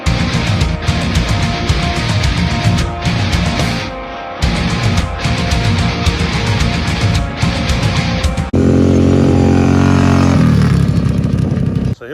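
A Kawasaki KFX700 ATV engine runs loud and close with a rough, steady clatter and brief dips in throttle, then rises to a fuller, smoother revving drone near the end.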